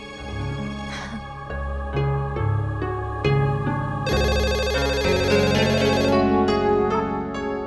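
A home telephone rings in a Hindi TV drama scene with a repeating electronic melody, loud and close, playing steadily over a bed of music with no talking.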